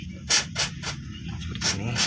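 Cleaner is sprayed onto an engine sensor of a Toyota Avanza or Daihatsu Xenia that suffers from long cranking. Several short, close, hissing squirts come in quick bursts over a low background hum.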